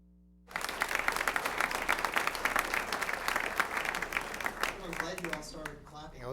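An audience applauds at the 2010 Spokane Fire Department awards ceremony: clapping bursts in suddenly, stays dense and lively, then thins out toward the end.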